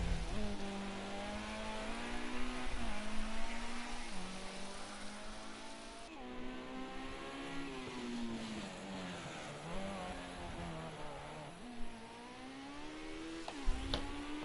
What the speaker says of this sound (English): Matosti is out on track trying to set a benchmark time